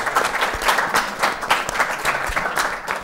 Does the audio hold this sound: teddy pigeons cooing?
no